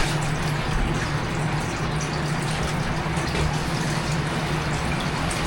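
Water poured out of a bag holding a pet oscar fish, a continuous splashing, gushing flow that stays steady and fairly close for several seconds with no talk.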